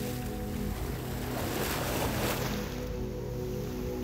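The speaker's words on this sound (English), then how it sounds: "listen to the ocean and let the waves take you away" Ocean waves wash in a continuous, broad roar with gusty wind-like noise, fairly close and steady throughout, with no voices.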